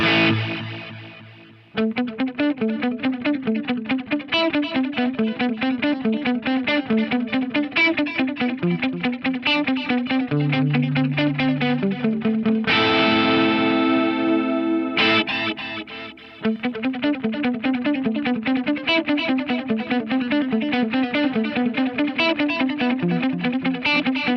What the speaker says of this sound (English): That's a pretty lush stereo echo over there.